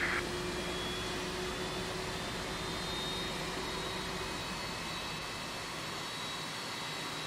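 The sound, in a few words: Boeing 767-400ER jet engine sound in X-Plane 11 video game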